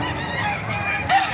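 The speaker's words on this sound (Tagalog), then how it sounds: "napakaraming manok oh" Many chickens clucking and squawking together at a market in Bocaue, a dense, loud chorus of fowl in a busy space.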